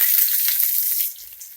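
Onion and curry leaves hit hot oil with garlic, giving a loud close crackling sizzle that is strongest at first and then settles to a softer hiss.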